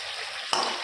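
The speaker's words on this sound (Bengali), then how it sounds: "মাছটা দিয়ে দিচ্ছি," Fish dropped into a hot pan for a Bengali fish curry with tomato, giving a sudden loud sizzle burst that rises from a steady background hiss and continues crackling.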